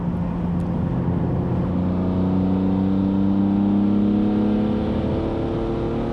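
A BMW E46 M3 engine on a racetrack drones steadily at close range, its pitch slowly climbing and holding as it accelerates, with a constant whirring roar throughout.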